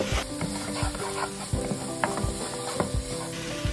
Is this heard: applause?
no